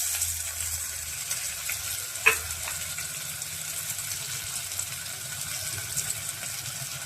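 Onion tipped into hot tempering oil with fennel seeds and cumin, giving a soft, faint sizzle with one brief sharp crackle as it hits, then a quiet steady frying hiss.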